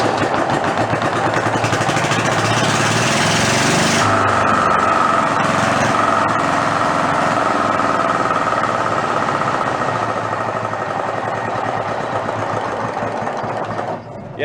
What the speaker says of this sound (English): Let's let her fire up again and possibly prime it.